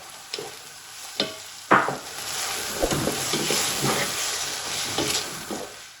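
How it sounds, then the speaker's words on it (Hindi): Restaurant-style chicken fried rice with chili sauce is stirred in a pan, with a few sharp scrapes and clanks over a continuous close sizzle. "इसको अच्छी तरह मिक्स कर लेंगे।"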